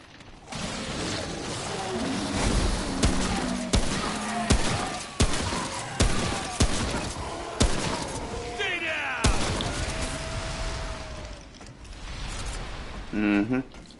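Rifle fire in the video game Remnant: From the Ashes, a series of sharp, loud shots at irregular intervals amid mechanical clanks and game action, with voices talking throughout.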